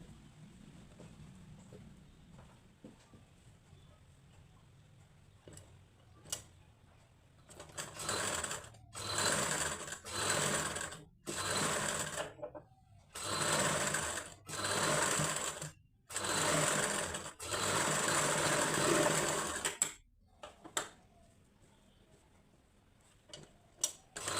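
Sewing machine stitching a reversed cross strip onto a size 38 katori blouse, running in a series of short, loud, rhythmic bursts with brief stops between them, standing alone without talk.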